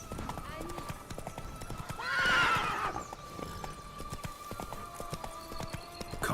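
In Witcher 3, Geralt's horse Roach gallops with steady, rapid clip-clop hoofbeats, and a loud whinnying neigh rises over them midway before the hooves carry on alone.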